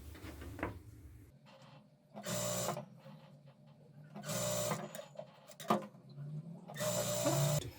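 A sewing machine stitches the folded hem of a semi-Patiala salwar in three loud, close whirring runs of about a second each, separated by pauses filled with handling clicks and fabric rustle.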